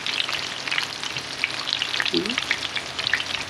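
Breaded shrimp frying in a pan of hot oil, a steady dense sizzle and crackle that runs the whole time, close and fairly loud, with no voices.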